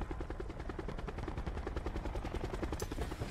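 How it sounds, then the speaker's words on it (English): Helicopter rotor thumping steadily under rapid bursts of gunfire in a video game, loud and continuous throughout with no talk. "Crash right into them with the helicopter."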